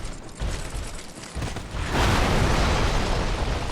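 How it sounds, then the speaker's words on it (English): Enemy smashing through part of a wall in Dark Souls 2: a dense, loud crumbling rumble of breaking stone that swells into a sustained roar of debris, close and unaccompanied by talk. "That guy just broke some of the wall"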